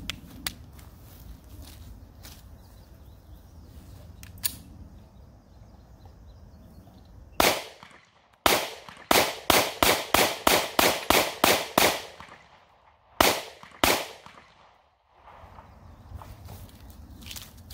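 Taurus GX4 9mm pistol firing Winchester white box +P-style ammo at an outdoor range: a quick string of about a dozen sharp, loud shots in rapid rhythm, with a few scattered reports before and after and quieter range noise between.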